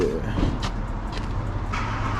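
BMW 335i with a twin-turbo N54 engine running on E85, heard from inside while driving as a steady low engine and road rumble, with a few faint higher bursts on top.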